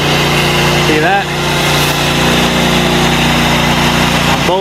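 A pressure washer runs loud and steady as car foam is sprayed onto two Lexus vehicles during a detail, with a constant engine-like drone and brief whistling pitch sweeps, and speech mixed in.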